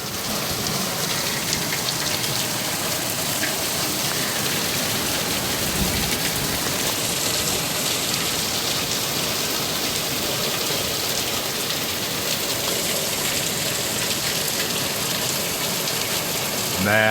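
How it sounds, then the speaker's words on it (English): Heavy Michigan rain pours down in sheets, a dense, steady roar of drops hammering surfaces that holds at an even, loud level throughout with no voices. "Man, that's some rain coming down in sheets."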